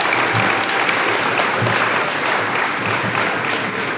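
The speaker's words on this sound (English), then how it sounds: "Please, students, give your parents a round of applause" A graduation crowd applauds the students' parents, a dense, steady roar of clapping that holds at full strength from start to finish with no voices over it.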